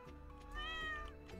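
A single drawn-out cat meow in the video game Stardew Valley, clear and fairly close, rising then falling in pitch over a quiet steady background hum.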